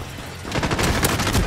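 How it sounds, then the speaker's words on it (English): Gunfire from Call of Duty Modern Warfare, a rapid burst of shots that starts after a quiet half-second and continues as loud, dense cracks to the end. "I'm getting shot from somewhere."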